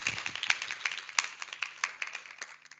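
A church congregation claps to welcome a speaker, a moderately quiet run of uneven, separate hand claps with sharp individual hits scattered across the moment.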